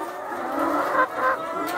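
A flock of 103-week-old layer hens clucks and murmurs in a steady, close chorus, with a few louder calls rising briefly above the continuous fowl chatter.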